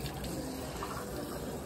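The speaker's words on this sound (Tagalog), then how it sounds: "Maghugas na ako ng mga ininuman." Drinking glasses rinsed under a running tap in a workplace sink, a steady close splash of water pouring continuously with faint clinks, no voices.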